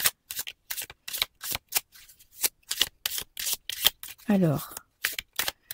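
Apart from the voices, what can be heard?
shuffling tarot cards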